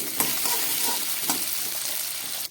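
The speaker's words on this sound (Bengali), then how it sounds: "ওইদিকে মাছের আলুটা ভাজা হচ্ছে" Potatoes fry in hot oil in a pan for a bata fish curry, a steady close sizzle broken by several soft stirring scrapes.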